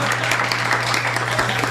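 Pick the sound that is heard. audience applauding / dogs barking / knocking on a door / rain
audience applauding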